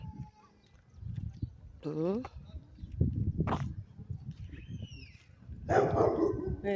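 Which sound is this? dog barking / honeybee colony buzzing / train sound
dog barking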